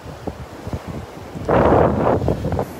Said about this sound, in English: See the wind coming out of the north here when I pan over to the flags.